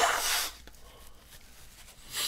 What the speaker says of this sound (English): I want to blow my nose also.